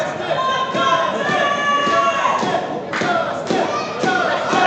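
A wrestling crowd at a Texas indie show cheers and shouts loudly and continuously, with dull thuds from the ring cutting through the roar.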